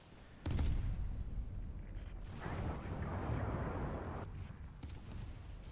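Naval cannon fire in the video game Steel Ocean: a sharp, loud blast followed by a long rumbling roar that fades out, with a second, lighter shot near the end.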